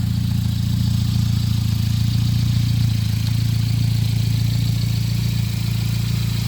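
A 1970 MG Midget sports car engine idles steadily and smoothly through a stainless steel exhaust, a close, continuous low rumble with no revving or talk.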